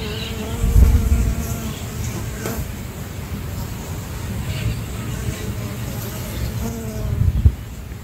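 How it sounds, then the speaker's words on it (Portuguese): Bees buzz over flowering buckwheat in a field, a dense continuous drone of many insects close by, steady throughout with faint low rumble beneath. "a gente fez um recorte para vocês verem a sinfonia das abelhas sobre o trigo morisco"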